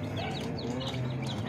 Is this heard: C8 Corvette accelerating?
no